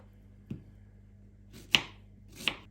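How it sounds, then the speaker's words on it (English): A knife slices strawberries on a chopping board, landing three distinct, close thuds at uneven intervals, the last two sharper and louder, against a quiet background. "those are the strawberries all sliced up that I'm going to be dehydrating"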